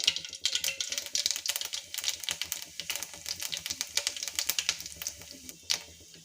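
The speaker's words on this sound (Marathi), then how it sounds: "तर जिरं आणि मोहरी तेलात छान झालेला आहे" Mustard seeds and cumin crackle and pop in hot oil, a dense run of sharp, irregular spits and snaps close up with no voices.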